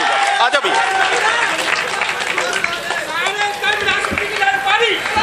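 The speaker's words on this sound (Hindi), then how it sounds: "जरा सा एक बार तालियों से इनका इस्तकबाल कीजिए" A mushaira audience applauds to welcome a poet: dense, steady clapping mixed with crowd murmur, with voices talking over it throughout.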